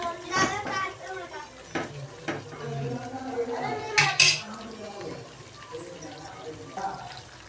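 A spoon stirs raw chicken with salt and turmeric in a bowl, making irregular clinks and scrapes against the dish. Faint voices and kitchen noise sit in the background.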